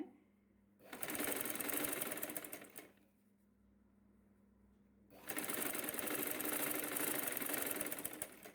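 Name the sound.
sewing machine stitching front panel of saree blouse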